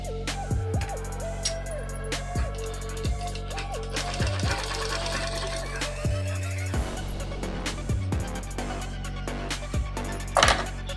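A sewing machine stitches folded fabric in a tailoring class, running in short rhythmic bursts with brief pauses between runs, close and fairly quiet.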